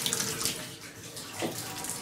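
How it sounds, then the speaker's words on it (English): Water pours steadily from a hotel shower head at a Best Western in Fredericksburg, Texas, a close, continuous hiss and splash that swells briefly midway, with no voices. "And here's the shower head."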